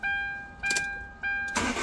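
A Hyundai Grand Starex with an inhibitor switch starting fault cranks in short bursts over a steady electronic tone, then catches with a louder rush of engine noise at the end, close up and brief.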